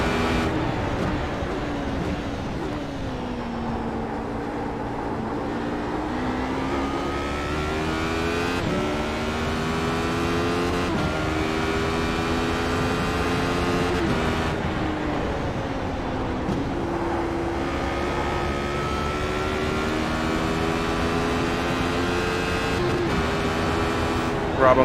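Radical SR8 race car in the iRacing simulator on a night session at Summit Point, its high-revving engine screaming steadily and climbing through gears with sharp shift dips, loud and close throughout, voices talking faintly underneath.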